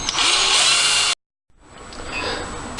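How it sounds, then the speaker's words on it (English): A power drill bores a hole through a cross piece for a skull chandelier, whining loudly and steadily, stopping abruptly, then spinning up again after a brief pause. "I'm going to go ahead and drill a hole in my cross piece"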